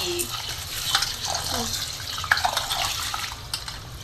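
Basmati rice being washed in water in a kitchen sink, with sloshing, swishing and splashing from hand stirring, close up and fairly steady.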